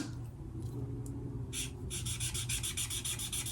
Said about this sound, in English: And I'm just going to scrub over the top.